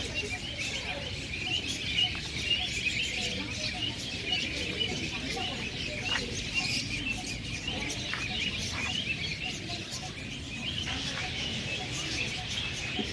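Maldives pigeons and other birds at a bird park in Thanjavur call and chirp steadily, their short repeated notes layered over a constant wash of aviary background noise at moderate distance.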